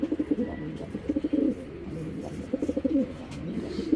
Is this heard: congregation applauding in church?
no